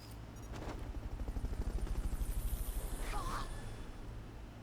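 Helicopter in the video game Metal Gear Solid Peace Walker, a steady rhythmic rotor chop building and holding throughout, with a brief whooshing effect partway through and game background sounds underneath.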